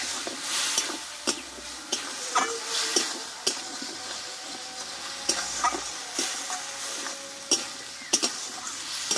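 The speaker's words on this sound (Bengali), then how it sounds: "দেখো মশলার সঙ্গে ভালোভাবে আমি আলুটাকে কষে নিয়েছি।" New potatoes fry with spices in a pan while being stirred, a continuous close sizzle broken by repeated scraping strokes and sharp clicks of the utensil against the pan, with no speech.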